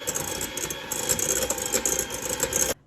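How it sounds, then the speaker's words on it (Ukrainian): Electric hand mixer on low speed beating eggs, sugar and room-temperature butter for Easter baking, a steady whirring motor hum with faint rattling that runs without pause, then cuts off abruptly near the end. "І на низьких обертах міксера все це перемішуємо."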